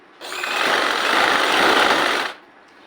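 A sewing machine runs one steady, close whirring stitch along the bottom of a maternity petticoat hem, lasting about two seconds and heard alone with no talk.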